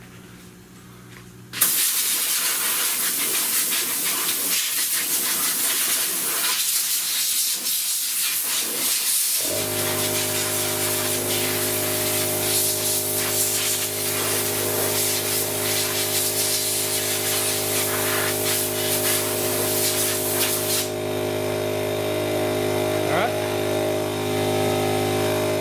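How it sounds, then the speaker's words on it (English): Hyundai Elantra air conditioning compressor kicks on and runs during a refrigerant leak check, a loud steady hiss and hum with a low engine drone that settles into a constant tone, alone with no talking. "give it a toot with the air and listen to our compressor kick"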